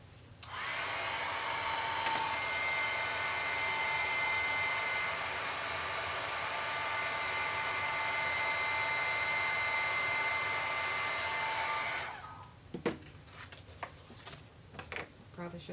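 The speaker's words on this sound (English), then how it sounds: "And hit it with the heat tool." A handheld craft heat tool blows a steady, loud, whooshing hum over embellishment shimmer on a layered bow for about twelve seconds, then cuts off, leaving faint handling clicks and rustles.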